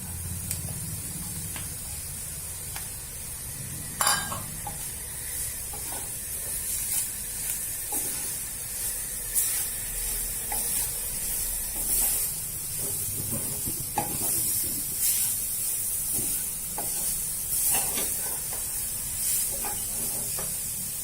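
Grated beetroot sizzles and hisses steadily in a hot pan with black pepper powder while cutlet mixture is prepared, with occasional stirring and clinks throughout, close and continuous, no talking over it.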